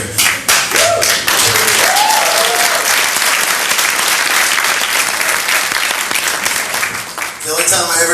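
An audience at a drum clinic applauds, a dense and loud wash of many hands clapping at once that carries steadily for several seconds before thinning slightly near the end, with a few voices mixed in.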